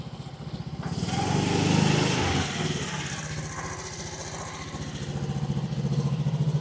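A motorcycle engine idles close by with a steady low pulsing throb that swells slightly and settles, running on without a break.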